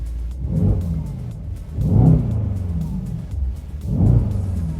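A Mercedes-AMG E63 S V8 engine is revved three times in a row, each blip swelling to a deep throaty rumble and falling back to a low idle, loud and close with no talking.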